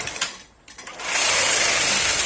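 A knitting machine carriage is pushed across the needle bed with the ribber attached, giving a loud, close, continuous rasping whoosh after a few preceding clicks and a brief pause.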